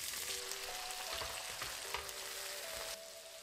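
Chopped onions sizzle in hot oil in a pan for taro root masala, a steady, close frying hiss that runs throughout with a few faint stirring scrapes and a thin background tone.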